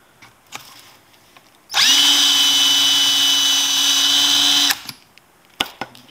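A power drill spins a brass case trimmer on .223 brass, whining at steady high speed for about three seconds, loud and close, then cuts off; faint handling clicks before and after.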